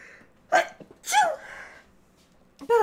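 A person sneezes, two sharp bursts in quick succession followed by another starting at the end, close and loud.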